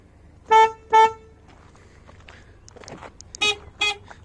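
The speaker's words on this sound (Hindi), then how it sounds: "इसका हॉर्न भी सुन लीजिए आप" A Hyundai Venue car horn beeps twice in quick succession, then after a pause with faint clicks, two more thin, high beeps sound close by.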